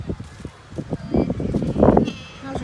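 A pet goat bleats in a series of short, close, wavering calls that rise into a louder cry, with a person speaking softly alongside on a cozy autumn day.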